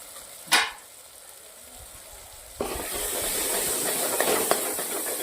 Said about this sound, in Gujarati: દોઢ ચમચી લાલ મરચું નાખું છું